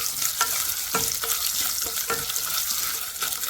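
Mustard seeds and small chopped coconut pieces fry in hot oil with a loud, constant sizzle, broken by repeated quick spatula scrapes and stirs, close up and without any voice.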